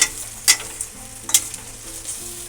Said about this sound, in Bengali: আমি জল ঢেলে দিলাম।